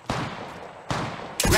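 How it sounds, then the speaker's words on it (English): Three separate bursts of gunfire in the mobile video game Apex Legends Mobile, each a sharp loud blast with a lingering tail, spaced under a second apart, with no talking. "Opening fire."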